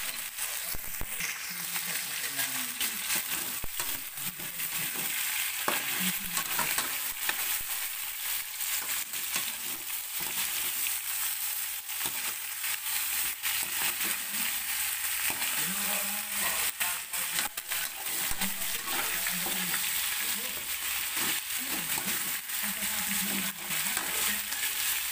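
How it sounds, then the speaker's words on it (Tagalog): A salmon head sautés in a pan for sinigang, giving a steady, loud sizzle and crackle throughout, with occasional stirring scrapes and no voices. "Ginigisa siya para mawala ang lansa."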